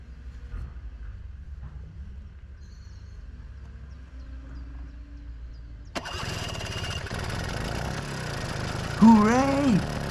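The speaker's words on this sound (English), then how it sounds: "Now let's crank the engine." A Vespa PX scooter engine, previously failing to start, is cranked and catches about six seconds in, then runs steadily at a loud, close idle with a brief rev near the end.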